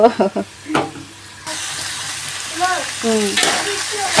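Chopped ivy gourd drops into a hot pan and settles into a steady, loud frying sizzle, with stirring scrapes and brief tonal voice-like sounds over it.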